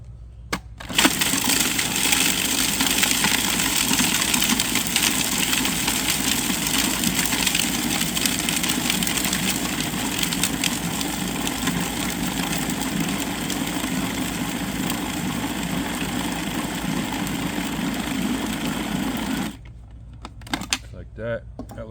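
A food processor blends sausage meat with crushed ice for bockwurst in a loud, continuous grinding whir with gritty crunching, running about 18 seconds before stopping abruptly.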